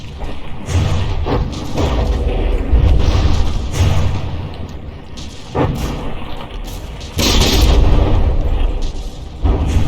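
An APS turret in the From the Depths naval battle game fires repeatedly in a rapid, heavy barrage of loud booming thuds, the shots landing in close succession with brief gaps between bursts.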